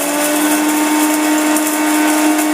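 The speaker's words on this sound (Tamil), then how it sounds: "இது மிக்சியில் போட்டு நல்லா நைஸாக அரைச்சிக்கலாம்" Electric mixer grinder grinding masala for a village-style fish gravy, a loud steady high-pitched motor whine with constant whirring, close and uninterrupted, with no voices.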